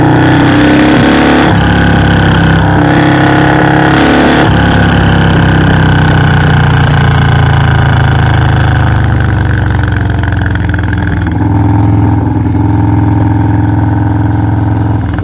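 A Harley-Davidson FXLRS with a Milwaukee-Eight 117 engine roars loudly and steadily while being ridden, its deep rumble shifting pitch as it changes gear and accelerates, with no speech over it.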